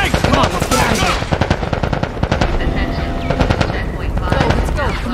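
Rapid bursts of automatic gunfire from The Last of Us game, loud and dense, with shouting voices mixed in amid the shooting.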